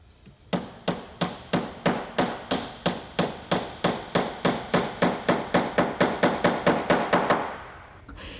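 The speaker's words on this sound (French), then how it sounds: "Il cloue le quart de rond, l'arrondit vers l'extérieur" Steady hammer blows driving nails into quarter-round wood moulding for a window-sill formwork, about two dozen sharp, evenly spaced strikes that quicken slightly, close up and alone.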